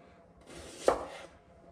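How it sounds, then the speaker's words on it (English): A knife slices through an onion, making one soft crunching cut that swells to a brief sharp peak and then fades, close and fairly quiet with no talking. "So if we cut through to the centre"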